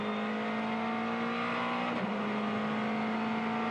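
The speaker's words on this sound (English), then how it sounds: "It's a great noise too. High revving V8," High-revving V8 GT race car at the Bathurst 12 Hour, a steady distant engine drone holding one pitch, then a brief dip as it shifts or passes, no voices.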